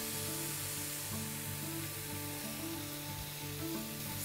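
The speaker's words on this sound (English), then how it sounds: "150 grams of prawns. And we're going to stir fry this." About 150 grams of prawns with lemon juice stir-fry in a pan, giving a faint, even hiss that holds steady throughout over a low tonal hum, with no voices.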